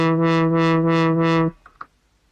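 Synthesizer tone with its filter swept by an LFO, a steady buzzy note whose brightness opens and closes in five even, regular waves over about a second and a half, then cuts off, leaving a brief faint tail.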